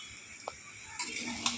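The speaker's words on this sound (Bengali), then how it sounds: "ভালোভাবে নাড়াচাড়া করে সব সবজির সঙ্গে যাতে ভাতটা মিশে যায়" Faint, sparse clinks of a utensil against a pan as fried rice with vegetables is stirred, with three light taps spread over a quiet background.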